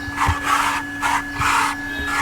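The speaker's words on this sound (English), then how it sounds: "In this type of cases the vacuum cleaner is very effective." A vacuum cleaner works over a car's interior, its motor whine holding steady while the nozzle's suction rises and falls in repeated rushing strokes, close by with no talk.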